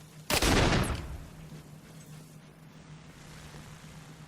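A single loud burst of gunfire from the video game Fable II blasts at the start, then decays into a low, faint rumbling ambience with a steady hum underneath.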